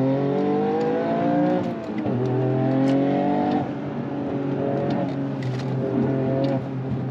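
A Toyota Yaris lapping a race track, its engine note climbing steadily through the revs and dropping at each gear change, loud and close and continuous throughout.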